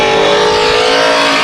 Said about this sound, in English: I think we have a race car here